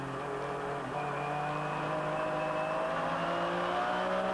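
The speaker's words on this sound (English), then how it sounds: "We go on board with the Dick Barber Racing GT Porsche, which is leading in GT." Onboard a Dick Barber Racing GT Porsche race car in the 2000 American Le Mans Series, its engine droning loud and steady with rising and falling pitch as it runs at speed, no voices over it.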